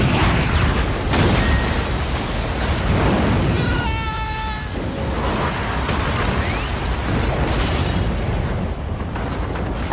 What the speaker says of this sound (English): With a fucking missile.